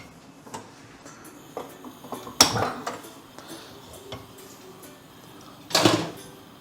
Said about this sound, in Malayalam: അത് ഞാനൊരു പാൻ അടുപ്പത്തേക്ക് വെക്കുകയാണ്